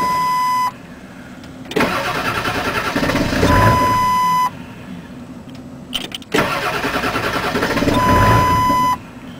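A 7.3L Powerstroke diesel truck with a bad ICP sensor cranks during a hard cold start, two loud bursts of starter cranking and churning engine noise, each a few seconds long, separated by pauses with a steady tone.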